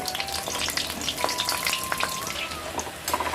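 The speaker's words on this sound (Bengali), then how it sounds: "দেখতে ভাজা হচ্ছে" Oil sizzles and crackles steadily as pumpkin flower pakoras fry, a dense, continuous spitting with small pops scattered throughout.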